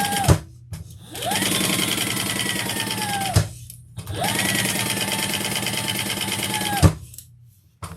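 A sewing machine stitches a seam on a leather and vinyl crossbody bag in two long, even runs of fast rhythmic whirring, each starting and stopping with a clunk, close and loud with no talking.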